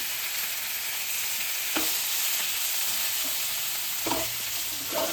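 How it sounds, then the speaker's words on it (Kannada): Boiled, drained mutton fries in a pan for a pepper dry, a steady loud sizzle with a few sharp scraping stirs of a spoon against the pan. "ಬರೀ ಮಟನ್ ಮಾತ್ರ ಹಾಕ್ತಾಯಿದ್ದೀನಿ"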